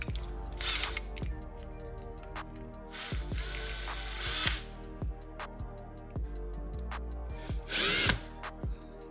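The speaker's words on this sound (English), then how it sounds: "it says use a 1/4 inch drill bit to make your hole" A power drill with a 1/4 inch bit bores a hole for a 2020 Road Glide saddlebag latch light, whirring in a string of short pulsed bursts with brief grinding surges, close and alone.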